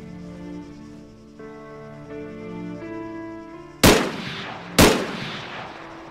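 Two loud, sharp gunshots from the game Arma 3 crack out close by about a second apart, each with a short decaying tail, after a quieter stretch of steady tonal hum.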